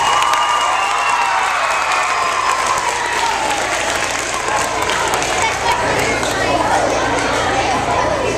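A school pep rally crowd in a gym claps and cheers loudly and continuously, a dense wash of applause with shouts and chatter mixed in throughout.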